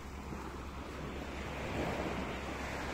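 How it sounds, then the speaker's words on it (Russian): Sea waves washing onto the shore, a steady broadband wash of surf with wind, continuous and fairly close, swelling slightly toward the end, with no voices. "На берегу моря."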